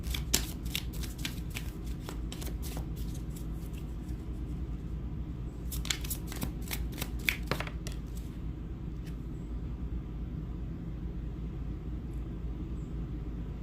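Tarot cards are shuffled by hand in a quiet room, a run of quick crisp riffles and flicks near the start and a second cluster about halfway through, close and fairly soft over a low steady background hum.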